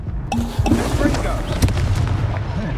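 Fiery spell blasts in Hogwarts Legacy, loud bursts and booms overlapping busy battle noise throughout, with voices shouting in the mix.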